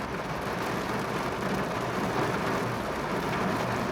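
Steady rain pours down outdoors, a dense, even hiss of drops on surfaces that holds at a constant level throughout, with no voices and only a faint low rumble underneath.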